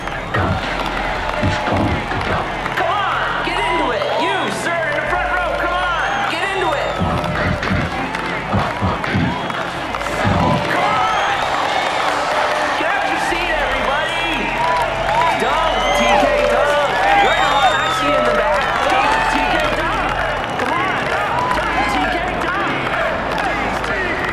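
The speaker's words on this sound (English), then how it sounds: "the crowd, the crowd just, just roars." A slam dunk contest crowd roars loudly and continuously, with cheering, clapping and dense babble filling the scene while an announcer talks over the din.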